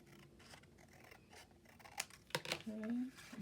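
Scissors snipping through paper card while making scripture journaling cards, faint scattered cuts and scratches, close by, with soft talk throughout.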